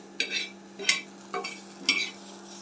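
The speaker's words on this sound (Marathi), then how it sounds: "2 लसणाच्या पाकळ्या घेतल्या आणि एक अर्धा इंच आल्याचा तुकडा आणि कोथिंबीर। हे सगळं छान भाजून घ्यायचं।" Garlic cloves, a half-inch piece of ginger and coriander roast in a dry pan, stirred in four evenly spaced scraping strokes over a low steady hum, close and moderately quiet.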